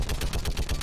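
Rapid automatic gunfire from a big gun in Mass Effect, a steady stream of about seven evenly spaced loud, close shots in under a second.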